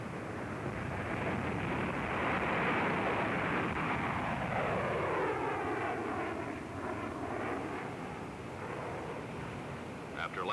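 An F-100 jet fighter's zero-length launch: a loud, roaring jet and rocket blast that holds strong, then sweeps and fades as the aircraft climbs away into the distance.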